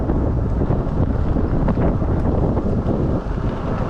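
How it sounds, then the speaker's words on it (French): Steady, heavy wind buffeting the microphone on an open forest track, a constant loud rumble with no pauses. "quand c'est dégagé, il y a beaucoup plus de vent."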